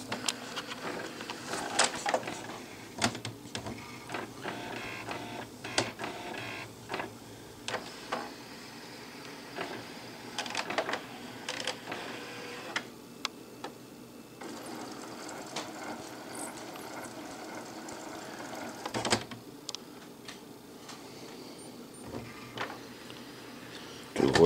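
HP printer stuck in alignment mode, with its mechanism clicking, ratcheting and whirring in irregular bursts over a low steady hum, close by, while a person talks at times.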